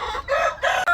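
A rooster crows twice in quick bursts, loud and close, on a small hen farm keeping Brahma chickens, with a short gap between the calls.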